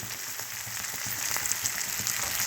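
Eggplant and potato pieces frying in a pan, a steady close crackling sizzle with faint stirring, no talking.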